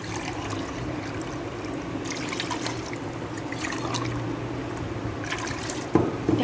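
Water pours steadily into a pressure cooker holding mutton, a soft, continuous trickle and splash heard close up but fairly quietly, ending with a brief metallic clink.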